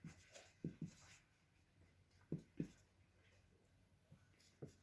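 Handwriting an example sentence during an English grammar lesson, with faint scratching strokes of a pen or marker and a few sharper taps in irregular clusters, quiet and close, no talking.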